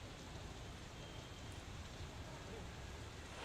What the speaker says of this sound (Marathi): पुणे शहरात मुसळधार पाऊस जो आहे त्या मुसळधार पावसानं हजेरी लावलेली पाहायला मिळते